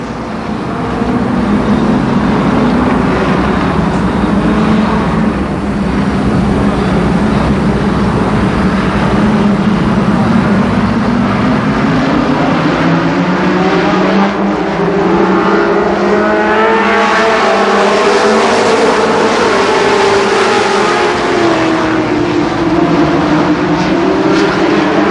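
Race cars including a Ford Thunderbird with a Ford motor roaring around Columbus Motor Speedway in 1990, a loud continuous engine drone with rising and falling pitch as cars accelerate and sweep past, no voices.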